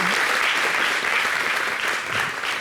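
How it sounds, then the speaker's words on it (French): A studio audience on a French local television show applauds a band, with dense, sustained clapping that stays full and close, easing slightly near the end. "Applaudissez quand même"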